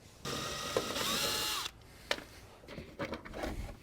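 A power drill backing screws out of the rear bumper of a Nissan 350Z: two short whirring bursts close up, separated by a sharp click, then faint handling clatter.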